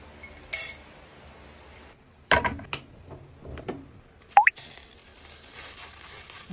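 A fiber drink being prepared in a glass: a few light clinks and taps, a small drip or plop, then a sharper clink and a steady soft fizzing or pouring hiss, all quiet and close with no voices.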